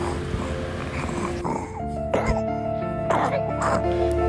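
A child's wet, productive cough, linked with mucus-heavy illnesses such as bronchiolitis, pertussis or bronchopneumonia, sounds in a few close, harsh bursts with throat-clearing rattle, mixed with background voice-like tones.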